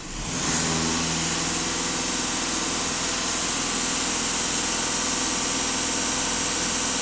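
Volkswagen Passat B8 with the EA288 diesel engine held at raised revs, a loud, steady, even drone that starts almost at once and holds without change, with no speech.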